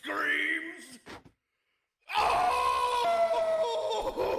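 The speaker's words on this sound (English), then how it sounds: "that title kind of spoils why you heard all that screaming" A shrill, strained scream, then a brief gasp and a second of silence before another long, loud scream takes over.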